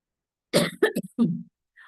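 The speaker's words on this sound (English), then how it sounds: "I'm having a fit of cough, so let's take a break and come back." A short burst of harsh coughing, three or four hacking coughs in quick succession, close and fairly loud, with no talking.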